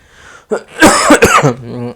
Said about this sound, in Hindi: माफ कीजिएगा, थोड़ा सा खांसी आ रही है।